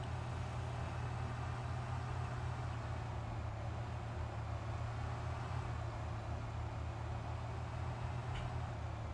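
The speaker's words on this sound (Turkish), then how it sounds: "Vay araba sürme olayını da güzel yapmışlar ha." A car drives in the video game Demolish and Build 2018, giving a steady, droning low engine hum that holds at an even level throughout with no talk.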